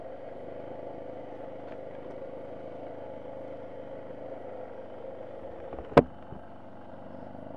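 A Suzuki DR650 dual-sport motorcycle engine drones steadily while riding through Mount Larcom State Forest, a constant mid-pitched hum with one sharp knock or clunk near the end.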